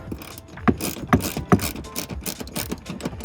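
A jack stowed under the rear seat of a 2019-2022 Chevrolet Silverado or GMC Sierra 1500 is loosened, giving close, rapid metallic clicks and rattles in an uneven rhythm.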